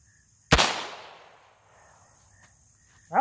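A single sharp gunshot from a KEL-TEC PLR-22 pistol during a test fire after repair, a loud close crack with a ringing tail that fades over about a second, followed by quiet.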